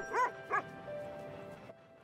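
Sled dogs bark at feeding time in two sharp, close yelps, then a fainter whine trails off in the background.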